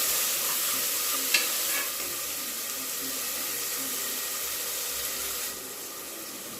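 Onions and green chilies fry and are stirred in a hot pan for a goat head curry. A steady, loud sizzle runs throughout with a few scraping stirs, then softens slightly near the end.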